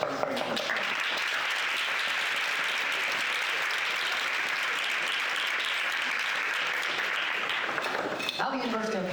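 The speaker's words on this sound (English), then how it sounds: "please give her a round of applause" Sustained applause from an audience at a university integration bee competition fills the hall, steady and dense throughout, fading at the very end.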